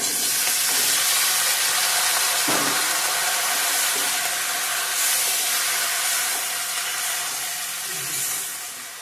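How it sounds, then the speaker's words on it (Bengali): Cut taro and potato pieces go into a hot pan for a fish curry, giving a steady loud sizzle and hiss throughout with a few soft clunks of vegetables landing, easing slightly toward the end. "সবজিগুলো দিয়ে দেবো এখন কেটে রাখা কচু আলু"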